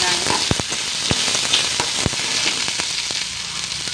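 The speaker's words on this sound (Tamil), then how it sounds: "வெங்காயம் போட்டு தாளிச்சிடலாம்" Sliced onions sizzle in hot oil for a tempering with urad dal and curry leaves, a steady bright hiss broken by sharp pops and crackles, close and loud.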